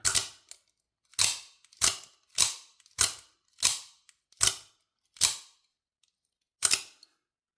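Two Maxace Uranus aluminum daggers fire out and snap back together, producing a loud, close series of sharp mechanical cracks, about ten evenly spaced shots with brief silences between, and no talking.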